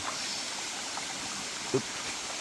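Steady broadband rushing of a forest waterfall dropping into a rocky chasm in Kanchanaburi, Thailand, continuous and fairly even, with a brief splash-like burst near the end.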